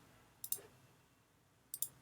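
Computer mouse clicking while drawing rectangles in design software, two quick double clicks about a second apart, crisp, close and quiet, with no talk.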